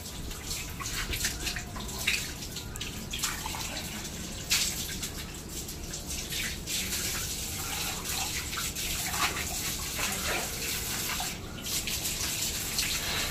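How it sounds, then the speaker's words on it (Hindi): Water pours and splashes continuously nearby while stairs are washed, a steady rushing gush with occasional louder sloshes and drips. "कल कल कल कल पानी की आवाज है"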